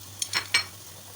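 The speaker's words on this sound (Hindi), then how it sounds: "ऑयल डालने के बाद हम इसके अंदर डाल देंगे अपनी अनियंस सारी।" Onions tossed into about two tablespoons of hot oil for beef khao suey, giving three brief sizzling, scraping bursts from stirring, close by, then a quiet fade.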